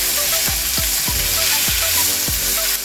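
Egg poured into a hot pan of frying spinach with onion and garlic, a steady loud sizzle with a few soft stirring knocks running through it.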